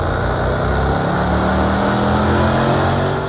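A road car's engine roars in the racing game Project CARS 2, a loud, steady drone that rises gradually in pitch as it holds close throughout with no talk.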